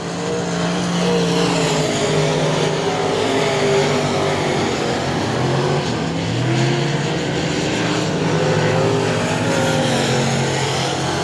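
Race cars on the I-37 Speedway dirt track roar past with loud, wavering engine howls that rise and fall as they circle, a continuous racing din with no commentary heard.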